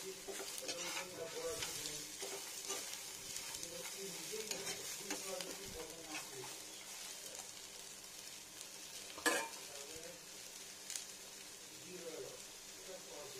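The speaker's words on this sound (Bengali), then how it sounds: "আমার সময় রয়েছে, আমি একটু ভেজে নিলাম।" Onions fry in a pan while being making a cornflakes snack, a soft steady sizzle broken by scraping stir strokes and a couple of sharper clinks, fairly quiet and close.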